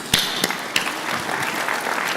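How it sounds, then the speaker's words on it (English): Applause from the audience at a flight simulation expo, a steady dense clapping with a few sharper claps near the start, close and fairly loud, with no speech over it. "we should give Callum an extra round of applause"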